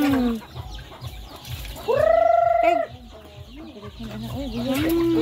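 Chickens cluck and a rooster lets out a drawn-out call nearby at a village fiesta in Tipasak, with people talking intermittently in the background.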